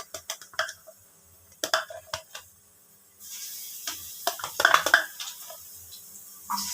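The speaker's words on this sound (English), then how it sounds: "So let's put our garlic now" Garlic is added to a pan of arrow roots frying until almost golden brown, with scattered clinks and taps of utensils followed by a steady sizzle rising in the pan under more clatter.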